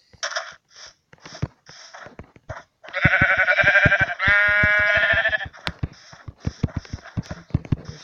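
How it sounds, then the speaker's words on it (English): Sheep in the Minecraft video game bleat in a loud, quavering burst of several overlapping cries, set among soft clicky game footsteps before and after, with no talking. "The sheep."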